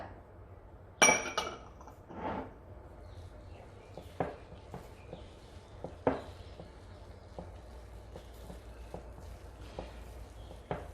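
Eggless tutti frutti cake batter is whisked slowly in one direction in a bowl, with sparse soft taps and clinks against the bowl, one sharper knock early on, quiet and close with no talk.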